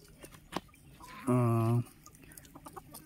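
Chickens roam a farm enclosure where market vegetable waste is tossed as feed. One loud, drawn-out squawking cluck rings out close by for about half a second, with faint scattered clucks and low background murmur around it.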